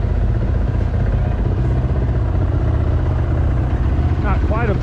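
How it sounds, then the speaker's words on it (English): Timbersled Aro 3 snow bikes idling as they warm up in the snow at McCall, a loud, steady, close engine rumble that holds without a break. "letting the bikes warm up"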